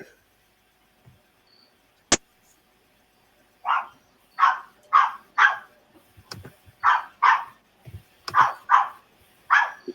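A dog barks repeatedly nearby in a rhythmic series of sharp, evenly spaced woofs, about a dozen in all, with a couple of thumps and clicks earlier on.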